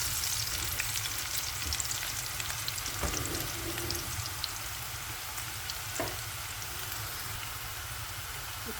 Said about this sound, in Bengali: এখন পেঁয়াজটা একটু লাল লাল করে ভেজে নিছি।